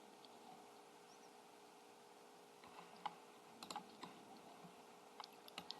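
Keys on a computer keyboard tapped to enter a file name, quiet and sparse at first, then a short cluster of soft clicks in the last few seconds over faint room hiss.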